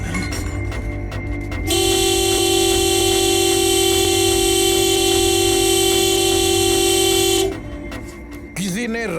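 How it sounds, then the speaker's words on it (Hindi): A car horn blares in one long continuous honk, loud and close, preceded and followed by traffic noise and brief voices. "किसी ने रास्ता रोका है, ऐसे हॉर्न क्यों बजा रहे हो?"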